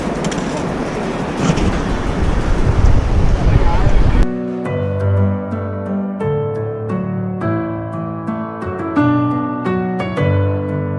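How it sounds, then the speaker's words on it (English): A waterfall in the Har ki Dun valley of the Himalayas in autumn gives a steady, loud rushing roar for about four seconds before it cuts abruptly to music. "There's the waterfalls"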